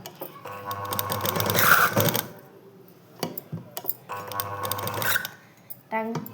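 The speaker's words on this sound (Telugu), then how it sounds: "మిషన్ కుట్టు 5 నెంబర్లో పెట్టుకొని దీని చుట్టూ కుట్టు వేసుకుంటారండి" An electric sewing machine stitching around the edge of a blouse piece, two bursts of fast whirring, rattling stitches separated by a short pause, close up, with someone speaking Telugu between and over the runs.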